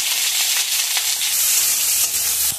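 Whole garam masala and onion frying in hot oil in a kadai, over sugar already heated for colour, give off a loud, steady, close sizzle that crackles continuously throughout, with no voices.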